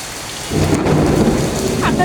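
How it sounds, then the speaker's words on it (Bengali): Heavy rain pours down steadily, swelling louder partway through, with a low rumble of thunder rolling beneath the downpour close by. "অনেক জোরে বৃষ্টি আসছে"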